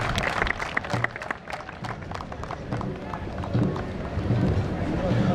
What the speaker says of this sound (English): Let us give a round of applause to our mayor.